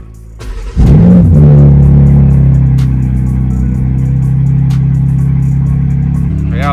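A drift car at the Grand Zoute Prix 2025 fires up and revs hard nearby, a sharp bark rising into a loud, sustained, droning engine roar that holds steady with small throttle blips and then eases slightly near the end.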